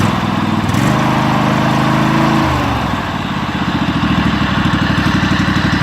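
A Craftsman GT6000 lawn tractor with a Kawasaki FD590V V-twin engine runs close by. Its steady idle briefly rises in a rev, settles back down, then holds an even, smooth pulsing chug.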